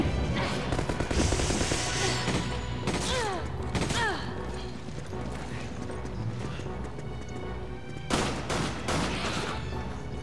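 Rapid bursts of gunfire ring out in a Resident Evil 5 boss fight in the Uruboros research facility, dense volleys with clanking mechanical effects and crashes, loud and continuous with brief pauses.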